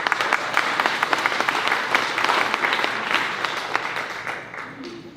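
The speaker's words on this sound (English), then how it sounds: "please join me one more time in congratulating our graduates with another round of applause" A large audience gives sustained applause for graduates at the Southwest Region May 2022 graduation ceremony, with dense, steady clapping filling the hall from start to finish before it thins out slightly at the end.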